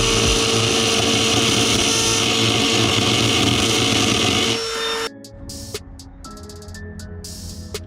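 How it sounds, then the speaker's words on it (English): A die grinder with a carbide burr cuts into metal, making a loud, high, steady whine with gritty rasping that drops off partway, then returns as lighter, intermittent grinding. "you can go to an air or a cordless die grinder. You're gonna wanna get a carbide burr"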